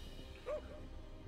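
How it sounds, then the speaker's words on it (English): A single short, high dog bark from the video game Overcooked 2, a quick yip over a steady background of game music and noise. "Oh, that's a dog."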